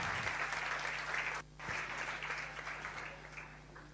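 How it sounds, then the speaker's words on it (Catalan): Applause for a whole class at a school science competition awards ceremony, fairly faint and steady, with a brief dip partway through and a low electrical hum underneath. "I això és un aplaudiment per tots"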